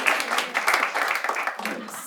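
Audience at a comedy game show breaks into brisk applause and clapping for a contestant, a dense wash of hands under some background voices.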